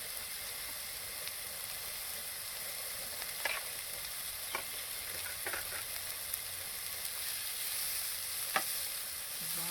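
Fresh onions, leeks and celery sauté in a hot pan for a Rwandan omelette with meatballs, giving a steady soft sizzle throughout with a few brief clinks of a utensil against the pan, no talking.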